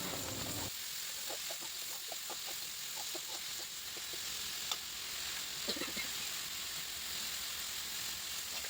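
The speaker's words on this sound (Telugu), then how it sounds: "ముందుగా కట్ చేసి పెట్టుకున్న ఆనియన్స్ అన్నిటిని ఇందులో వేసుకోవాలండి వేసుకొని కొంచెం గోల్డెన్ బ్రౌన్ కలర్ వచ్చేదాకా వేయించుకోవాలండి" Chopped onions sizzle steadily in hot oil in a pan, a soft continuous frying hiss with scattered light pops and a few scraping stirs partway through.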